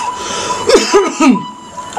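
A person with a pandemic-time illness coughs three times in quick succession, close and fairly loud, against a faint background hum.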